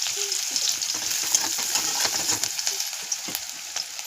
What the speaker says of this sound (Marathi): आपण कांदा भाजून घेऊया